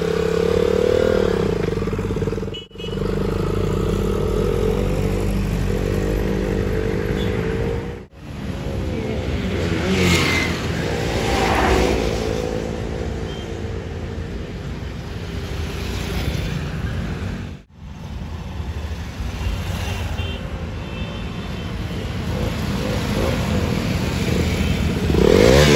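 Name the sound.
motorcycle riding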